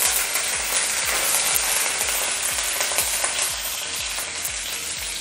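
Green chilies and curry leaves fry in hot oil for a Rajasthani besan curry, giving a steady, loud sizzle and crackle with occasional stirring scrapes, close up and without voices.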